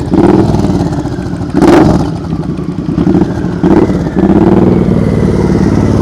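A motorcycle engine close by revs up in several loud throttle bursts during slow-speed riding practice, dropping back to a rough idle between each surge.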